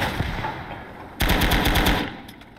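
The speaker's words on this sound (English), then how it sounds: "Machine gun's not half bad." Bursts of machine-gun fire in the WWII tank game Gates of Hell: Ostfront, a rapid string of sharp shots starting partway through, loud and close, trailing off at the end.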